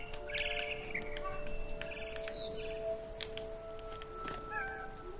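A cat meows repeatedly in the video game What Remains of Edith Finch, with clear, mid-pitched calls over a steady hum of game ambience and a few light bird chirps.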